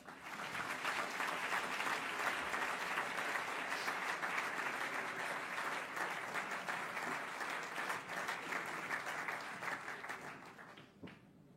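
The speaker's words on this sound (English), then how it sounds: "Ladies and gentlemen, a warm applause for Tristan Joseph Smith." An audience gives warm applause to an introduced speaker, with steady, sustained clapping that holds for about ten seconds and then fades out quickly at the end.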